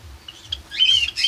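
Frightened Java sparrows squawk and chirp in their cage while it is being cleaned and limewashed, sharp bright calls that start sparse and then swell into a louder, denser burst of alarm near the end.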